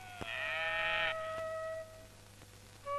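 Farm animals grazing in a village give a loud, drawn-out bleat or moo with a rich harmonic tone, followed by a quieter lingering call, then a short bleat at the end, with no talking.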